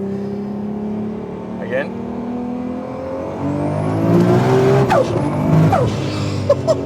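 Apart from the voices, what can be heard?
Nissan Skyline R34 GTR engine revving while double clutching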